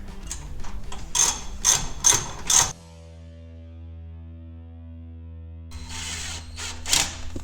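Metal hose clamp and muffler clamp on a 2020 Indian Challenger being re-tightened, giving a run of quick ratcheting clicks up close, then a pause with a steady hum, then more clicking.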